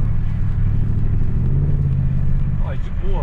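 A supercharged 4.2 V8 in a 2006 Range Rover roars under load in a low gear, a loud, close, steady engine drone, with a brief voice toward the end.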